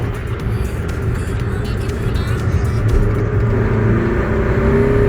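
A car with a CVT transmission accelerates, its engine a loud, steady drone heard from inside that holds and slowly swells rather than stepping through gears.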